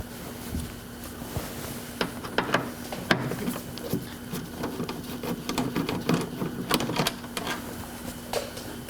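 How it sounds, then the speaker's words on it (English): Two 8mm bolts are removed from a Mercedes W220 S-Class headlight with a hand tool, producing close, irregular clicks, ratchets and light taps over a low steady hum. "what we're going to begin doing is just removing these 2 8mm bolts"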